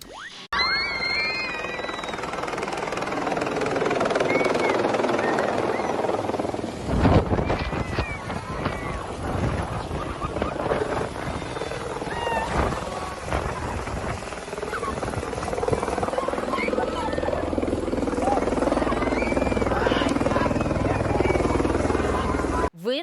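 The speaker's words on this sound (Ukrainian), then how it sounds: "поперелякувалися від того гелікоптера, який раптом сів біля школи" A helicopter landing beside a school during a festive event, its rotor roaring loud and close for the whole stretch, with gusting wind buffeting the microphone and people's voices mixed in under the noise.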